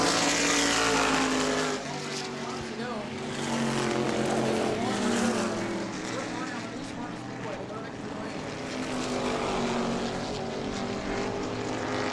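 Race cars roar around a concrete oval track during a family fun night event, a loud, continuous engine drone that swells and fades as the pack passes close by, with an announcer talking over it.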